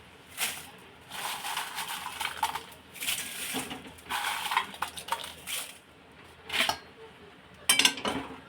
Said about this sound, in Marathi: हे बाकीच्या पण ज्या मिरच्या आहेत त्या अशा परतून घ्यायच्या आहे थोड्याशाच गरम करून घ्यायच्यात